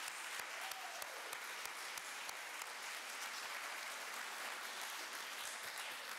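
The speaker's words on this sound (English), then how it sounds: "let's give our art teacher and instructor a nice round of applause" Steady applause from a high school audience at a fine arts festival, honoring the art teacher and instructor; dense, even clapping fills the room throughout with a faint far-off voice barely surfacing.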